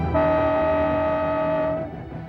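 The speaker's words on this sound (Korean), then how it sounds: "기차는 곧이어 한 터널을 통과했다." Train running through a tunnel on a Silk Road rail line across a barren, treeless landscape near the Tian Shan mountains, with a long steady horn-like tone over rumbling wheels, loud and close, fading near the end.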